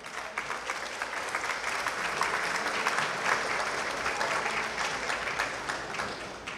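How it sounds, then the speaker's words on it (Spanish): Sustained applause from an audience at an International Women's Day tribute, greeting an engineer; steady and dense throughout, moderately loud with no talking over it. "El aplauso para ella."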